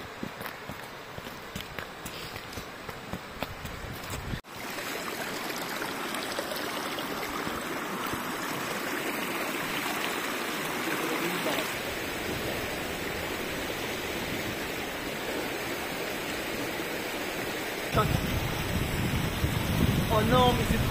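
A river flowing nearby, a broad continuous rush of water mixed with footsteps and movement, growing louder and fuller toward the end as the water gets closer.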